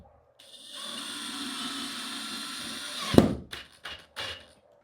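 A power tool drives a fastener to fix a cabinet latch to a wall for a suspended kitchen cabinet, running steadily for about three seconds before stopping with a sharp knock and a few short follow-up bursts.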